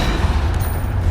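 Depulso spell cast during a chaotic Hogwarts Legacy duel, heard as a loud, continuous rumbling burst of heavy low thuds lasting about a second with no voices over it.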